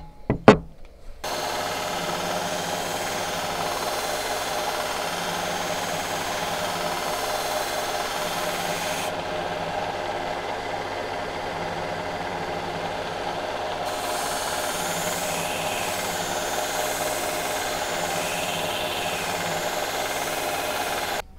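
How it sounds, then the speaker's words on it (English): A grinder sharpening the edge of a cheap axe head, a steady continuous whirring grind running for about twenty seconds after a brief clatter at the start. "I may put a bit of an edge on it while I'm here, while the grinder's up"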